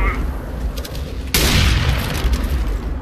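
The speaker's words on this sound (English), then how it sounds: "Throwing a grenade." A video game grenade goes off with a sudden loud boom partway through. A dense, rumbling roar follows and hangs on, and a voice is faintly audible just before it.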